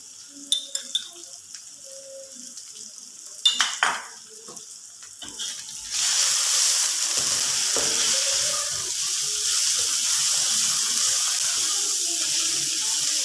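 Dried chillies and spices sizzling loudly in hot oil over a medium-low flame, with a few stirring scrapes early on before a steady, close frying hiss takes over and continues to the end.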